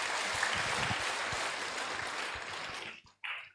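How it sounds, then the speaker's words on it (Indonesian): Audience applause at an Indonesian revival church service, a dense burst of clapping that fills the hall for about three seconds, then cuts off abruptly and leaves a short tail of quieter sound. "Beri tepuk tangan bagi Yesus Kristus."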